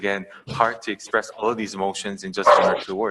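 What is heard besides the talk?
dog barking and whimpering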